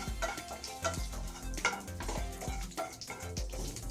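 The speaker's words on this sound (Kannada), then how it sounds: "ಇವಾಗ ಸಾಸಿವೆ ಚಿಟಪಟ ಅಂತ ಸಿಡಿಲಿ" Mustard seeds, urad dal and cumin crackle and splutter in hot oil in a pan while a chutney is tempered, giving a steady dense frying hiss with frequent sharp pops close by and no talk.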